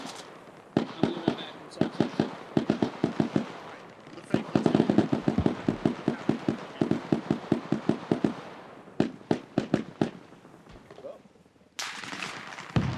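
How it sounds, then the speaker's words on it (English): Gunfire in a military simulation video game rings out as rapid bursts of sharp shots, volley after volley with brief gaps, moderately loud and somewhat distant. "I'm hearing them shoot."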